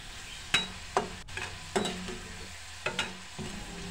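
Chickpeas fry in oil on a second round of frying, with a steady low sizzle broken by distinct scraping stirs and clinks of a spoon against the pan at irregular intervals.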